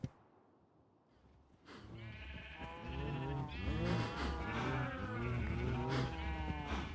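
Crowded cows in a modded blocky survival video game low and bleat continuously, many overlapping calls forming a dense, loud herd chorus after a quiet opening second.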